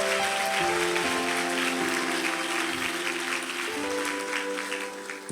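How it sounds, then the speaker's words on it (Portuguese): A church congregation applauds in a steady wash of clapping at a worship service, with sustained musical tones from instruments beneath it. "Você pode aplaudir Jesus aqui essa noite?"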